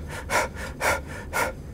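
A running coach demonstrates short, rapid breathing: three quick, breathy bursts spaced about half a second apart, close to the microphone, with no speech.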